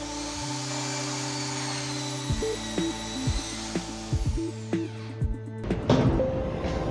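A power drill boring holes into a melamine furniture panel, its motor whine stopping and starting in short bursts of varying pitch, close and alone, ending with a brief clattering handling noise.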